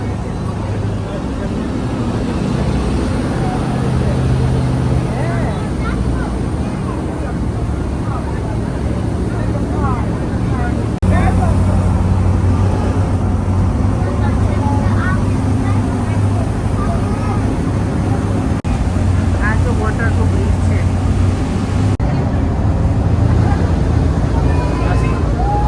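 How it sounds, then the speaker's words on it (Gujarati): Police boats speeding across open water in central London, a steady broadband engine and hull roar running throughout at close range, with crowd chatter mixed in. "આ જો બધી પોલીસ બોટ છે"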